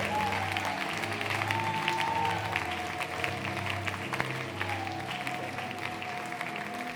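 A church congregation at a prayer marathon applauds in praise, a steady wash of clapping that holds for the whole stretch, with faint sustained tones and murmuring voices underneath.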